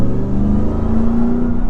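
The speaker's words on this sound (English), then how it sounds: "with that supercharged V8 to make the whole driving experience even more badass. But so I'm gonna try to push it a little bit here." A 2023 Ram TRX pickup's supercharged V8 rumbles loudly from inside the cab while accelerating on a night drive, a deep steady drone with a rising whine and no talking.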